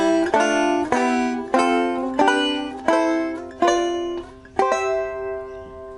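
A plucked banjo picks a slow sequence of ringing harmony notes, each pluck sustaining and overlapping the next, with no voices.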